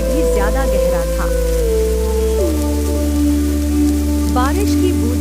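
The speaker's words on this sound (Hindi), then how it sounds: "बारिश की बूंदें अब तेज होकर मूसलाधार बन चुकी थी।" Heavy torrential rain hisses steadily and loudly without a break, layered under sustained background music.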